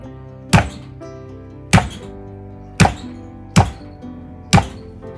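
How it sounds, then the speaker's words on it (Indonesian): Galangal is smashed flat for cooking, five heavy, dull thuds struck about a second apart, each close and punchy with a short ringing tail. "Nah, di sini juga aku ada lengkuas. Nah, ini digeprek aja."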